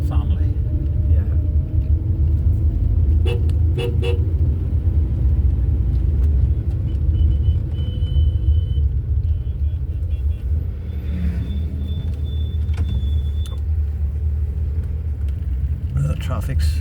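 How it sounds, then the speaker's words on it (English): Cars on the road near Armoy, County Antrim, during a classic car show, with a constant low rumble of traffic and engine drone from inside a vehicle, fairly loud and continuous. "The traffic's starting to build up, but it's still moving along."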